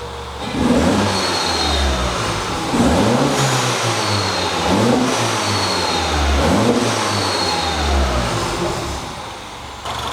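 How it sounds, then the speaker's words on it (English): A track car engine with a broken engine mount revs up and down repeatedly in a steady rhythm, loud and close, the pitch rising and falling with each throttle blip. "let me rev the engine"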